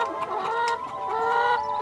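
Hens cluck and murmur close by at a collection point for rehoming ex-commercial laying hens, a busy overlapping stream of soft clucks and squawks with no talk.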